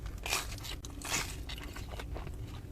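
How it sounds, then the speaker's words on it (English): A crunchy Domino's pan pizza crust is bitten close to the mic, with two loud crackling bites about a second apart followed by softer chewing. "their pan pizza crust is always crusted"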